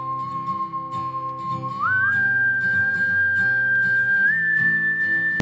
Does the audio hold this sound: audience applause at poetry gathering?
no